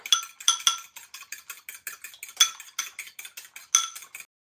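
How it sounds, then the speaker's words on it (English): Three eggs whisked quickly in a bowl for cheesy eggs: a fast, rhythmic series of bright metallic clinks against the bowl, close and clear, about a dozen strokes before stopping. "I just cracked 3 eggs. Gonna give it a quick whisk."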